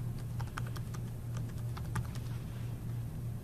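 Rapid keystrokes on a computer keyboard as a username and password are entered during an Avidyne C MAX account setup, an irregular clatter of clicks over a steady low hum, with no talking.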